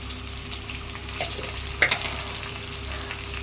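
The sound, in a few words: frying eggplant and potato with spices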